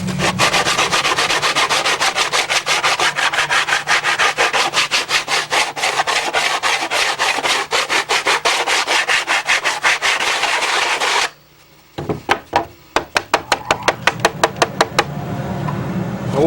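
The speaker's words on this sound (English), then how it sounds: "But once it's all block sanded down," Block sanding a glued seam on a wooden model airplane part: loud, close, continuous rhythmic rubbing strokes, then a brief pause and a quicker series of sharp scraping strokes.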